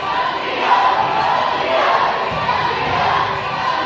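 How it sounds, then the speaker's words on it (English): A loud basketball crowd roars and cheers continuously at the Northland Classic, a dense wall of voices sustained throughout with faint thuds beneath. "This crowd's going insane already."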